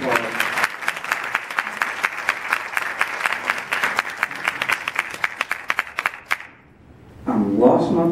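At a jazz brunch, an audience gives a burst of brisk, close-sounding applause that runs about six seconds and then cuts off, followed by a short pause and a voice starting to speak.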